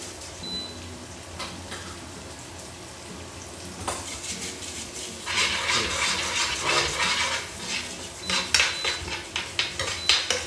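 Ginger, garlic, chilli and spring onions fry in a pan. A metal utensil scrapes and clinks against the pan under a growing sizzle, with louder bursts of stirring toward the end, and no voice is heard.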